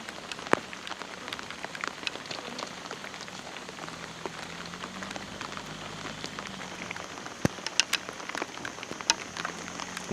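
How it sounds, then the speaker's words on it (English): Steady rain patters across the African bush near a lion pride, a dense continuous hiss with scattered sharper drops, close and fairly soft, with no voices. "Embracing the rains."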